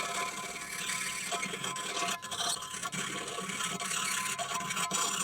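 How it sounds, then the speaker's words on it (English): Steady dry rasping of a hand file worked back and forth across a metal part, close and fairly quiet, with no talking. "But I'm going to do this one with just a file."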